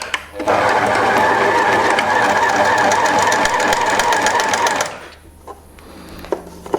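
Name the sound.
sewing machine shirring fabric with elastic thread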